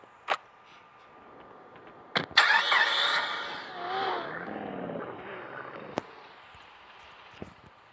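Car engine revving in the video game GTA, a mid-pitched engine roar that swells for several seconds after a couple of sharp clicks, then settles back to a quiet idle.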